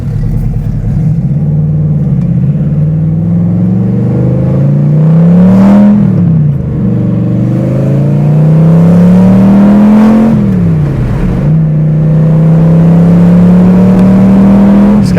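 A V8-swapped Pontiac Fiero engine revs hard while driving, its loud, close drone climbing in pitch through three long pulls, each dropping away briefly before the next rise, with no talking.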